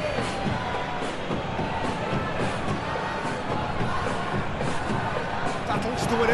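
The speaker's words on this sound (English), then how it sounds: "Crowd appreciates good football all round there" A steady stadium crowd roars and cheers throughout a PES 2021 football match between Persib Bandung and Borneo FC, a continuous wash of fan noise with a commentator talking over it.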